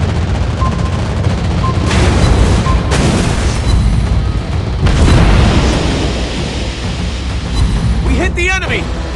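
Naval combat in World of Warships Blitz with shells exploding on an enemy ship: dense, loud booms and rumbling blasts pile up continuously, with game voice callouts mixed in.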